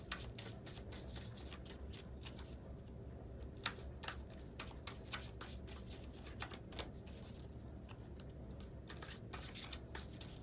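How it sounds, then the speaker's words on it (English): A deck of tarot cards is shuffled close up, giving soft rapid riffling and clicking bursts with brief sharper snaps, faint and steady over about ten seconds with no talking. "let's go on and shuffle these decks"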